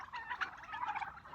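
Turkeys on an Azerbaijani turkey farm gobble in a dense, overlapping chorus, the close flock's warbling calls rising and falling continuously without pause and with no talk over them.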